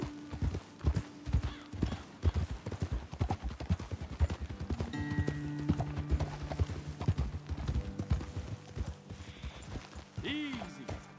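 Rhythmic clip-clop of horse hooves trotting close by in Red Dead Redemption 2, with a game score's sustained tones underneath and a brief voice near the end.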